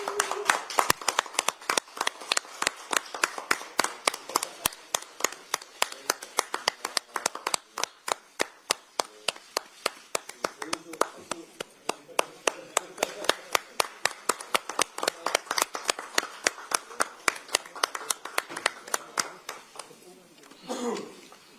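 Crowd at a Democratic Party recruitment ceremony claps in a strong, steady rhythm, loud sharp claps repeated in unison for about twenty seconds before tapering off at the end.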